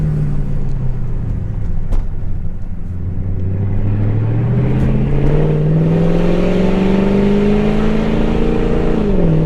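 A 2003 Mercedes-Benz SL55 AMG roars while driving, its loud engine note climbing steadily in pitch as it accelerates, then dropping briefly at the end of the pull.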